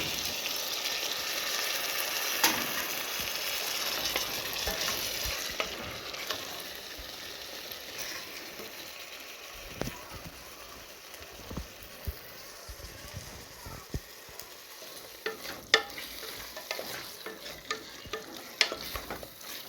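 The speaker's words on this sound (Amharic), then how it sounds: "ስጋውን እጨምራለሁ። በደንብ ቲማቲሙ መቁላላት አለበት ነው።" Meat and tomato fry and are stirred in a pan for rice buhari, a soft steady sizzle broken by scattered scraping clicks of the spoon, close and fairly quiet, with a voice speaking at times.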